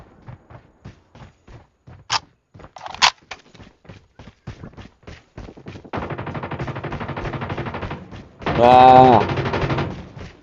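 Video game gunfire as rapid bursts of shots in a steady rhythm, followed by denser sustained firing and a loud final blast, with a brief voice heard among the shots.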